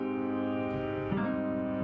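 Major seventh chord in a jazz accompaniment context rings out as a sustained, harmonically rich chord, with a second strike or voicing change partway through, moderately loud with no talk.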